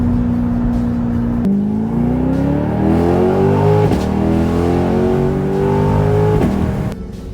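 C8 Corvette fitted with a LeMans Edition exhaust revving close by, a deep rumbling idle climbing in pitch through several rising sweeps before settling, loud and steady throughout.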